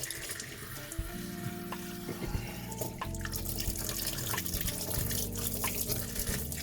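Cold tap water runs steadily into a sink while raw fish is rinsed under it, a continuous splashing hiss with small shifts and drips as the fish moves.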